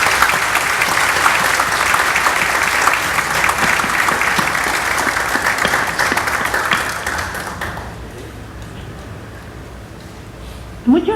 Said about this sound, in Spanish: la vamos a despedir con un fuerte aplauso